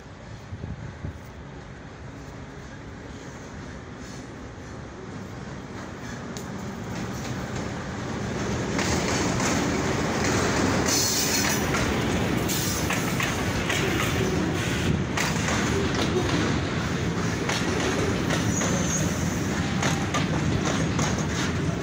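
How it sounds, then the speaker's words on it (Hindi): A freight train rolls past Lawrencepur station with rumbling and rhythmic clattering wheels, growing louder midway and staying loud to the end. "ये अभी रेल गाड़ी आ रही है, देखिए ये कौन सी माल गाड़ी है"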